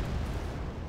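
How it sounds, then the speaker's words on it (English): A missile from a Patriot battery striking its target in the Wargame Red Dragon strategy game, heard as a brief dense rumbling explosion that holds for under a second at moderate loudness. "Missile out from the Patriot. Hit."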